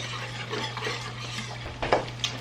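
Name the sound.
stirring gravy in a pan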